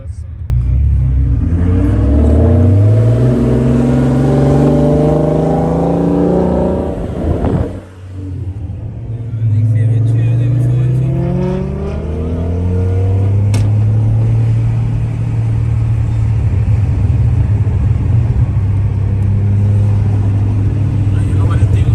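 A big turbocharged car engine revs and rumbles up through rising pitch sweeps, dips briefly, then climbs again under acceleration, loud and close from inside the car.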